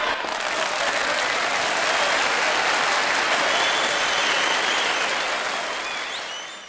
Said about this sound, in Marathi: तशा सगळ्या लोकांनी कडकडून टाळ्या वाजवल्या.